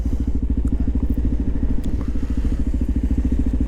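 A Kawasaki KLR650 motorcycle ridden in strong, freezing wind gives a loud, steady engine thrum with rapid low pulses, overlaid by buffeting wind noise and occasional clatter, heard close from the bike.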